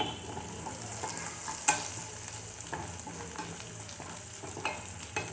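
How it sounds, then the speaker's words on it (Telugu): Ginger garlic paste fries with onions in a pan for chicken fry, a continuous close sizzle broken by scraping stirs and a sharp clink near the start, with no voices. "అల్లం వెల్లుల్లి పేస్ట్ పచ్చివాసన పోయే వరకు ఫ్రై అవనిద్దాం."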